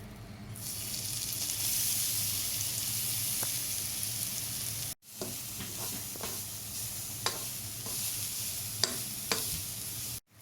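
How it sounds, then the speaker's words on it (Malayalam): Grated coconut stirred in a spoonful of ghee in a heated pan: a steady, close sizzle with scraping stir strokes and small clicks, briefly cut off midway before resuming. "പാൻ ചൂടാക്കി ഒരു സ്പൂൺ നെയ്യ് പാനിലേക്ക് ഇടും. അതിലേക്ക് തേങ്ങ ഇട്ടിട്ട് ചെറുതായിട്ട്"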